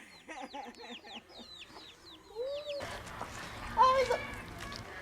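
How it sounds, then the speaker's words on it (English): Chickens clucking in a Swiss village, several birds calling in short bursts that come close together, with a voice and children's sounds mixed in partway through. "chickens come running when they hear"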